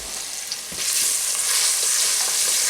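Garlic sizzles steadily in a frying pan over low heat, a bright crackling hiss that swells as it settles into the oil, with no voices.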